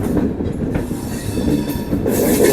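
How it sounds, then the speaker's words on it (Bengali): A long-distance express train rumbles loudly along the tracks while rounding a curve, a steady heavy roll with rhythmic clacking and occasional high squeals from the wheels. "ট্রেনটা রাউন্ড হয়ে ঘুরছে এই পরে ট্রেনের একটা মাথা দেখা যাচ্ছে"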